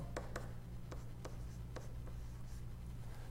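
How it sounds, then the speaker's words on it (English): Pen scratching on paper while a math equation is written out, a handful of soft, brief strokes in an irregular rhythm, close and faint over a low steady hum, with no talk. "I'll write it down here at the bottom."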